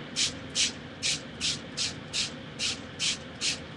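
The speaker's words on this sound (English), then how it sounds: "this piece of canvas, I'm going to go ahead and spray with the sorbet" Shaken shimmer sorbet colour spray misted onto a heavy-duty canvas, almost like duck cloth, in about ten short, even hissing bursts at a steady rhythm, close up, with no talking.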